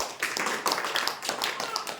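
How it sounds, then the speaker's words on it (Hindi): A small group claps for three sisters during a Brahma Kumaris class, quick sharp handclaps in an uneven rhythm, close and fairly clear, with faint talk underneath. "तीनों के लिए तालियां बजाओ"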